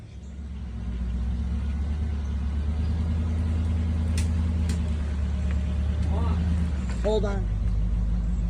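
A 1967 Ford Mustang convertible engine idles with a steady, deep, loud rumble, a brief voice speaking over it near the end.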